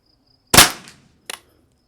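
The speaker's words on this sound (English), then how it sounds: "And now let's put 10 extra rounds downrange." A Norma TAC-22 subsonic .22 round fires from a semi-auto rifle, one sharp crack with a short decay, followed by a second fainter click-like report about a second later.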